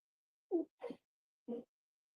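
Three short, soft human sneeze-like bursts, close and alone in silence, the first two quickly paired and the third after a brief pause.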